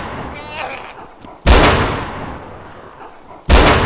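Two sharp, loud gunshots crack out about two seconds apart in the DayZ Overpoch mod, each with a long decaying tail, with brief faint talk just before the first.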